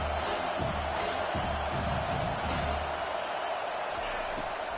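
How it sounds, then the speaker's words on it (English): Stadium crowd roaring at an American football game, a dense, sustained wall of cheering with thumps and shouts under a commentator's voice. "The roar of the crowd trying to fuel this defense to keep them pinned in their own end."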